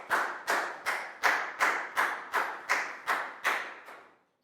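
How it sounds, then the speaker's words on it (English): Classmates in a Year 4 math lesson clap for a student in a slow, unison rhythm of about ten sharp, close claps, evenly spaced about half a second apart, fading out at the end. "Big round of applause for Prel,"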